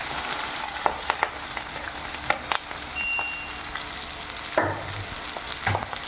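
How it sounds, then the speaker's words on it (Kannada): Mustard seeds, cumin, green chilli and onion fry in oil, an even sizzle under sharp crackles, spoon clinks and stirring scrapes. "ಸಾಸಿವೆ, ಜೀರಿಗೆ, ಹಸಿಮೆಣಸಿನ್ಕಾಯಿ ಮತ್ತು ಈರುಳ್ಳಿ ಇದು ಕೂಡ ಚೆನ್ನಾಗಿ ಫ್ರೈ ಆಗಬೇಕು."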